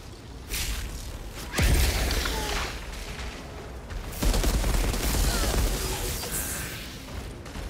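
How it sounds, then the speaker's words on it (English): Gunfire in the shooter video game Outriders during a boss fight, with two heavy booming shots a couple of seconds apart standing out over continuous rattling fire and whooshing effects. "I'm gonna try to shoot your ass"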